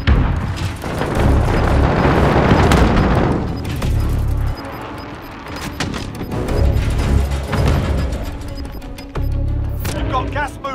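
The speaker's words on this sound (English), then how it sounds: "Enemy precision airstrike." Precision airstrike in Call of Duty: Modern Warfare, heavy booming explosions in several long rumbling bursts separated by brief lulls, loud and close, with sharper cracks near the end.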